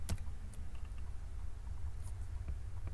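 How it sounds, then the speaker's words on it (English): Quiet, irregular key taps on a computer keyboard during word-processor typing, soft clicks scattered over a low background hum with no speech. "typing and watching a video is a little bit difficult."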